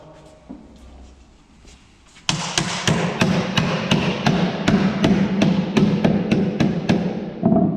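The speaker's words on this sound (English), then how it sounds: "I'll show you how to hand rivet it" Hammer blows hand-rivet a steel hoop for a whisky barrel: a loud, close run of about fifteen sharp metallic strikes in a steady rhythm follows a quiet opening, with no talk over them.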